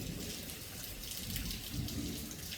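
Torrential rain pours down during a storm in south-east London, a dense, steady wash of falling water heard from indoors, faint and unbroken, with no voices.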